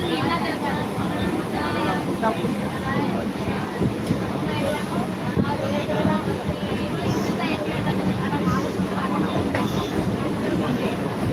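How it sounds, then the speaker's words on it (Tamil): A Sambalpur–Rameswaram train rumbles past close by near Chennai, a continuous rolling roar with rhythmic rail clatter, steady throughout. "சம்பல்பூர் ராமேஸ்வரம் போகிற ட்ரெயின் பாருங்கள்"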